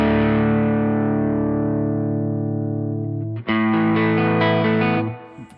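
An electric guitar played through the Aurora DSP Laney Ironheart amp plugin rings out as a long, clean sustained chord that slowly decays, then a second chord is struck and held before being cut off.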